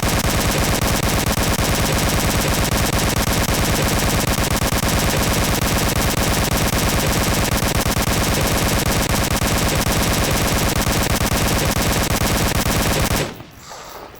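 A drum-fed SA-80 machine gun in a video game, emptied in one long unbroken burst of rapid, loud shots lasting about thirteen seconds before stopping abruptly; no talk.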